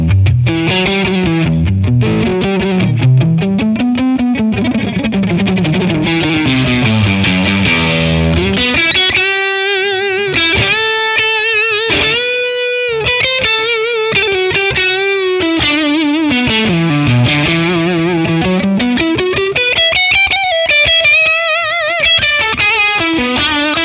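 An electric guitar played through a Matchless Laurel Canyon amp profile on a ToneX, with reverb, rings out in loud, slightly driven melodic lines and sustained chords that blend into a shimmering wash, continuous and close.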